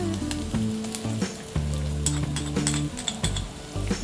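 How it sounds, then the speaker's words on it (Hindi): Baby potatoes frying on a low flame give a continuous sizzle while a steady melodic background plays under it. A few light clinks of utensils come through and no one speaks. "आलू को हम लो फ्लेम में 5 मिनट तक फ्राई करेंगे।"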